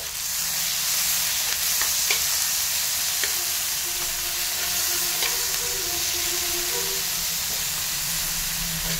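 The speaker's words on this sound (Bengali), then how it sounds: "সব উপকরণগুলো একসঙ্গে মিশিয়ে হালকা নাড়াচাড়া করে ভেজে নিব" Chopped onion, tomato and capsicum sizzle steadily in a hot pan while being stirred for an egg Maggi dish, a continuous close frying hiss with no talking.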